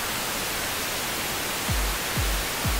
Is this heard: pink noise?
yes